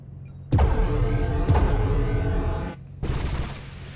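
Mech weapons fire in MechWarrior Online, the Sun Spider ambush build, as loud close launches: two sharp blasts with ringing, whirring tails, then a fresh burst of rushing noise after a short gap.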